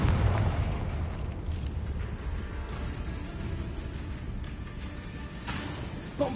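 Bombarda explosion spell from Hogwarts Legacy, a sustained low rumbling blast with a few sharper bursts, loud and close with no talking.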